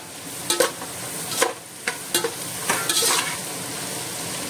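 Capsicum and mixed vegetables stir-fried for Goan-style prawn chowmein, a steady close sizzle broken by several sharp scraping stirs of a spatula against the pan, with no talking.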